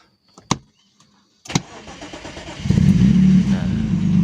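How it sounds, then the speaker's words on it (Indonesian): A BMW E36 fitted with a keyless push-button start cranks and fires up. Two sharp clicks come first, then the starter whirrs and the engine catches into a loud, steady idle close by. "lalu kita tekan start, nanti bisa start mesin."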